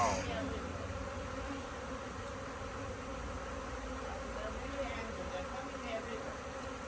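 Angry bees swarm from a disturbed hive, a dense continuous buzzing drone that stays close and steady throughout.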